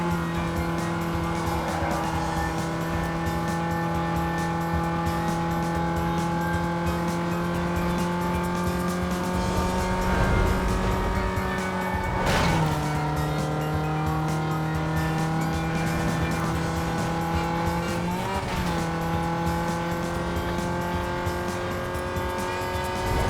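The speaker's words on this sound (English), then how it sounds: "Taxi Lexus with a 4-cylinder, a rare breed." A Lexus taxi with a 4-cylinder engine drives in Need for Speed: Most Wanted (2005), its engine droning and shifting pitch through revs, with tire squeals and other passing cars over a continuous loud mix.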